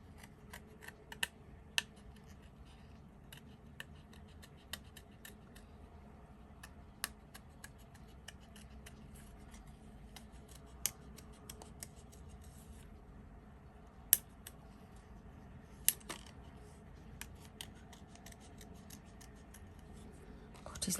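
Scissors snip out a paper shape for a handmade poppy card, a string of soft, quick clicks and cuts close by in a quiet room with a faint background hiss.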